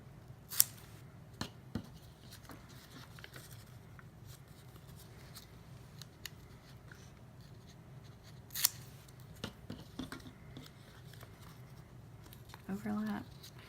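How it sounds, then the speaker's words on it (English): Scissors snip ribbon for a homecoming mum zig zag name chain, with a few quiet separate cuts spread through a soft, low background and a person talking faintly underneath. "I'm just going to cut these real quickly"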